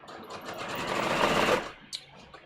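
Sewing machine stitching fabric in a quick, even run that swells and stops after about a second and a half, followed by a faint click, fairly quiet and close.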